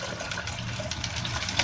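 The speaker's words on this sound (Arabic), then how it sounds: "هنزل بقى بلتر كده من الميه" Water poured from a container in a home kitchen, filling a batch of brine for pickled onions; a steady, close splashing and trickling pour running throughout without pause, with no talk.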